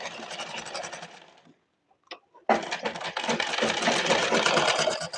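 A sewing machine stitches lace onto a silk blouse, running in a loud, fast whirring burst, stopping for about a second with a small click, then starting again for a longer steady run.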